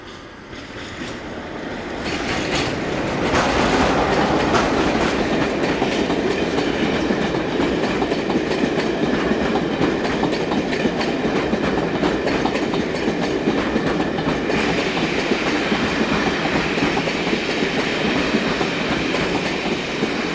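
A southbound British Rail Class 47 diesel locomotive comes off a diverted section between Birmingham and Leamington via Dorridge. Its loud, steady rumble with rail clatter builds over the first seconds and then holds throughout.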